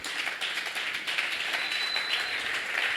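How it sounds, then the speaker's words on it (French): Church congregation applauding loudly, a dense, continuous wash of many hands clapping together at close range. "on acclame très fortement pour le roi des rois"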